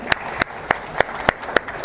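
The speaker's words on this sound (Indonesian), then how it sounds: "Tepuk tangan dulu boleh buat Raul Sintang." An audience claps for a guest named Raul Sintang at a talk show taping, the sparse claps coming as about eight distinct sharp slaps in a steady rhythm, fairly close and moderately loud.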